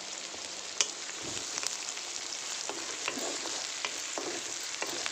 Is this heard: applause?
no